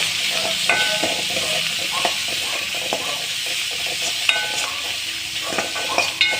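Chopped onions sauté in a pan for a carrot, drumstick-leaf and egg stir-fry, giving a constant hissing sizzle with frequent light spatula clicks and scrapes against the metal, close by and without voices.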